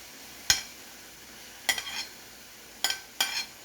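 Sliced peppers and onion dropped into a hot pan for pepper sauce give four quick, bright bursts of sizzle and clatter, close up, with quiet gaps in between.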